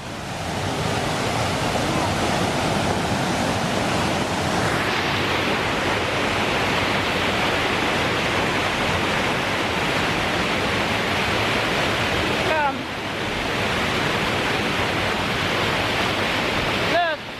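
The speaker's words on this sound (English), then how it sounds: "Look at this little river flowing through the park" A small river flows through a park in a steady, broadband rush of water, close and continuous, with a brief dip and a few faint chirps near the end.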